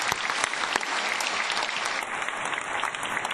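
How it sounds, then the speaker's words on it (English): Sustained applause from a school district meeting audience fills the room, dense and steady clapping with no break, fairly close and loud throughout. "we want to give them a big round of applause for taking the time"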